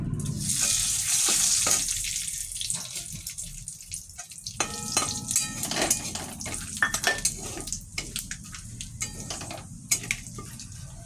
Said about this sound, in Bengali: তেলটা ভালো করে গরম হলে আমি ফোড়ন দেব। ফোড়নে দেব শুকনো লঙ্কা, তেজপাতা, গোটা জিরে।